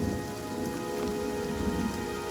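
Steady rain pours down in the fantasy role-playing game Pillars of Eternity, a dense, continuous hiss of drops striking surfaces, loud and close, with no voices over it.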